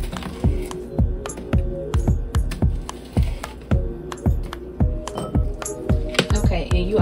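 Knife chopping bell peppers into strips on a cutting board, a steady run of crisp, close thuds about twice a second with a person talking over them.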